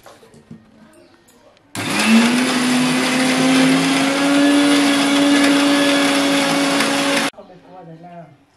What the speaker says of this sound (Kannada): ಇವಾಗ ನೋಡಿ ಮಿಕ್ಸ್ ಹಾಕಿ ಗ್ರೈಂಡ್ ಮಾಡ್ತಾ ಇದ್ದೀನಿ